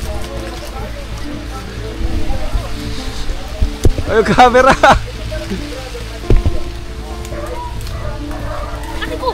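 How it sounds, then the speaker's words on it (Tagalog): Rain falls outdoors in the Philippines, a steady wash of drops hissing on surfaces close by, with people calling out and talking over it and brief knocks and bumps mixed in. "Inabot kami ng ulan."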